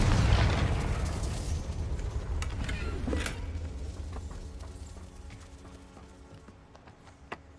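A Confringo fire spell explodes in Hogwarts Legacy, with a loud, deep, rumbling burst at the start that slowly fades over several seconds, scattered crackles, and a small pop near the end.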